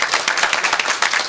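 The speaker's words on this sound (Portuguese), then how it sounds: "Uma salva de palmas para o Eliseu aí." A brief burst of applause greets a band member being introduced at a live gaiteiro music event, many hands clapping loudly and close together in a dense, continuous patter.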